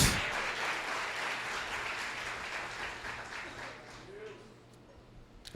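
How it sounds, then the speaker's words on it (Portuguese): A church congregation applauds during a sermon, a dense wash of clapping that starts loud and gradually fades over several seconds. "pode aplaudir Jesus."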